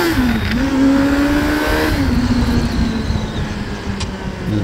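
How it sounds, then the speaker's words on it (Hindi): A motorcycle engine near Ranthambore revs hard and steadily while lifting into a wheelie, its loud drone rising and falling in pitch as the throttle is worked, with no talk. "ये मोटरसाइकिल ही ऐसी है कि चलते चलते बस हल्का सा थ्रॉटल दो, एकदम ये हवा में खड़ी हो जाती है।"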